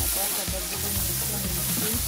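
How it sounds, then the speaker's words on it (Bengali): Pointed gourd pieces tossed into a pan of frying onion and spices for mixed vegetable bhaji, a loud, dense sizzle with a few stirring knocks close up. "এখন আমি এটাতে দিয়ে দিচ্ছি এক এক করে সবজিগুলো। প্রথমে দিয়ে দিচ্ছি পটল,"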